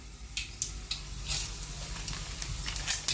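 Coriander seeds and cumin dry-roast in a pan, giving faint crackling and light scraping stirs over a low background hum, with a few sharper taps and rustles, close and fairly quiet, no talking.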